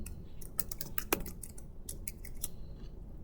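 Computer keyboard keys clicking in quick irregular bursts while a new password is typed, close and fairly crisp, with no talking.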